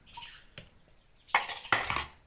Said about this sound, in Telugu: మంచిగా మెత్తగా దంచుకోవాలి.